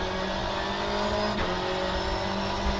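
Race car engine lapping the Croft circuit in the Assetto Corsa or rFactor2 racing game, a loud steady high-revving drone with a brief shift blip midway, no talk.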